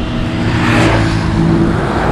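A motorbike ridden very fast near the Malaysia–Singapore border produces a loud, close engine roar and wind rush, rising slightly in pitch as it holds speed, with no talking.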